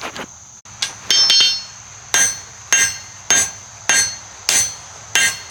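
A hammer rings out in about nine sharp, metallic strikes on hot iron and the tongs at a blacksmith's anvil while forging a coat rack, a quick cluster at first and then a steady, evenly spaced rhythm, each blow bright and close.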